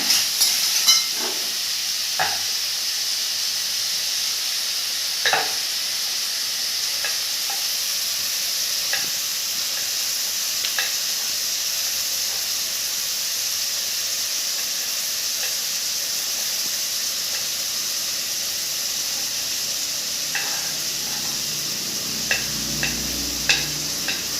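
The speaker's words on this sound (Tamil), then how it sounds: "கொஞ்சம் உப்பு போட்டு நல்லா வெங்காயத்தை வதக்கிடலாம்" Onions sautéing with salt in a pan for a home-style butter chicken, a steady broad sizzle with occasional stirring clicks and scrapes, fairly close and continuous, with no talk over it.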